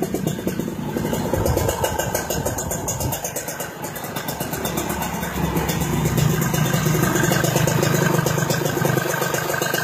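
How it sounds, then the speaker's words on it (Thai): Steady, close idling of a Victor motorcycle engine bored to 17 with Kips parts, a constant rapid chugging pulse, loud and unbroken throughout with no talking. "ฟังเสียงเครื่องกันดีกว่าดีกว่าฮะ"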